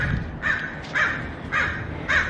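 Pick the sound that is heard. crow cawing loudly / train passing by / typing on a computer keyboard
crow cawing loudly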